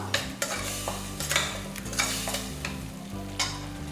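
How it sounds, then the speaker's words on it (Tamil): Ginger and garlic are sautéed with tomato and onion for a soya biryani, with rhythmic spoon-on-pan stirring clatter over a constant sizzle, loud and close, with no speech. "இஞ்சி பூண்டோட பச்சை மணம் போகிற வரைக்கும் நல்லா வதக்கிக்கலாம்"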